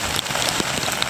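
Storm rain falling on a hammock tarp, a dense close patter of drops with a few sharper individual hits, steady and fairly quiet, with no voices.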